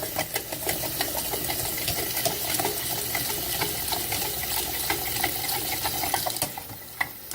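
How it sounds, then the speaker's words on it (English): Tap water runs from a sink faucet into a cold brew pitcher, a steady close splashing and filling that continues throughout before easing off near the end. "you put it under the sink, turn on the tap"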